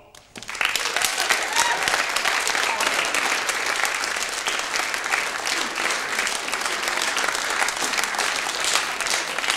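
A concert audience in a Latvian Radio studio breaks into sustained applause, with dense, even clapping starting abruptly and continuing steadily throughout.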